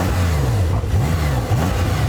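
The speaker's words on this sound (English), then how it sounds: "Have a listen to my engine." Porsche sports car engine revving loudly and close, with pitch sweeping up and dropping back across several throttle blips.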